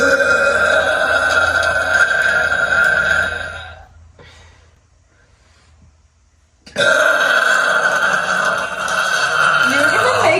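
A loud, drawn-out belch from a person, rumbling for about three seconds, then a near-silent pause, then another long, loud burp that runs to the end.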